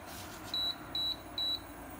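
An Iris Ohyama EIH1470-B double induction cooktop, made in 2016, gives three short, clear, high beeps about half a second apart at button presses over a quiet room hum.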